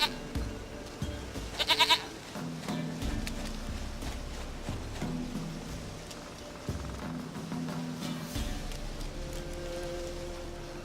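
Goat bleating in The Witcher 3: Wild Hunt, a short burst of bleats near the start over a steady game ambience of soft footsteps and low background tones.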